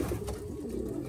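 A racing pigeon at a loft during a race coos in a low, soft, rolling murmur, close and brief, with no talk over it.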